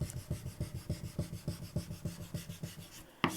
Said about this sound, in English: wherever you want details, that's where you burnish